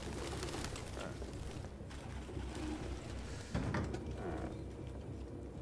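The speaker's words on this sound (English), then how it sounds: "Oh, look at the pigeon." Soft, repeated cooing of a pigeon in the video game Detroit: Become Human, heard alone over a low, steady ambient hum without any talking.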